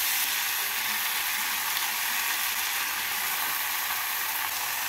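Chopped spinach hits a pan of vegetables and spices frying for a Bengali palong shaker rosa, giving a steady, loud, broadband sizzle that runs without a break and without voices.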